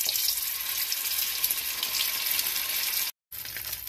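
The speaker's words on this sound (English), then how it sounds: "we've heated up some oil and now we're going to fry the snail" Snail dropped into hot oil for a Senegalese fish jollof rice dish, a steady bright sizzle and crackle running continuously, close and fairly loud, with a brief cut to silence near the end.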